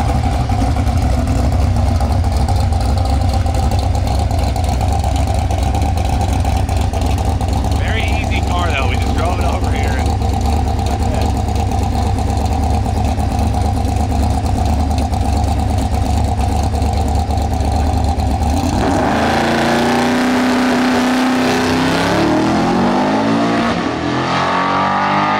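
A car idles with a steady deep rumble after a brand-new transmission was fitted, then revs sharply near the end with rising engine pitch, loud and close, with voices talking in the background.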